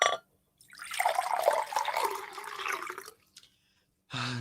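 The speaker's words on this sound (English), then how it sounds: "Shall we have another drink? May I pour?" A drink is poured into a glass in a radio drama scene, a steady liquid stream for about two and a half seconds, close and fairly loud, followed by a brief clink and the start of a voice.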